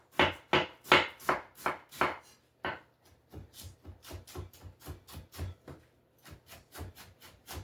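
A knife slices cabbage very thinly on a board, producing a quick series of close, crisp cutting strokes. The first bursts are louder and evenly spaced, then lighter, faster cuts follow. No speech.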